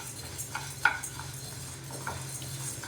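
Spices dry-roasting in a pan without oil are stirred continuously, giving soft scraping and light metallic clinks of a spoon against the pan over a quiet background, with one sharper knock.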